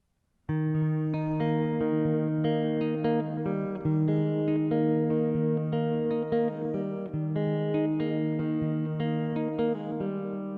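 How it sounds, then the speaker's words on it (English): A clean electric guitar plays a repeating finger-picked riff, notes flowing steadily and evenly at moderate volume with no voices. "we're going to play a finger picking riff"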